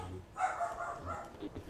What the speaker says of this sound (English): Okay, that's my dog.